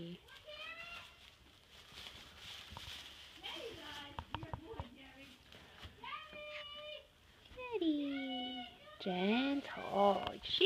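A barn cat meows repeatedly up close, its rising and falling calls growing louder toward the end, while people talk softly in between.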